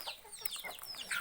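Domestic chickens cluck softly in short, scattered calls, faint and close, with no talking in the brief moment.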